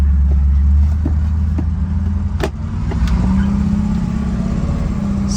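A 1964 Buick Riviera with a 465 Wildcat V8 pulls away, its engine a strong, steady low drone that eases after the first second and holds near and even, with a few faint clicks.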